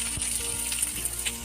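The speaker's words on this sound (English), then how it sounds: "we are going to add the veggies in the oil and saute them" Vegetables sauté in hot oil in a pan for thukpa, a steady close sizzle with faint stirring scrapes and no talk.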